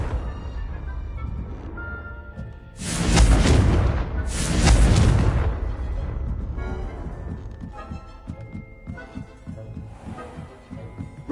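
Two big blasting-spell explosions from the Confringo curse in the wizarding game Hogwarts Legacy, loud booming bursts about a second apart over a rumbling game background, then quieter ambience.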